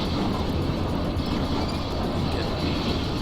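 A GWR Castle steam locomotive runs along the West Highland Line in Train Simulator 2016, giving a loud, steady rolling rumble of wheels and train noise throughout.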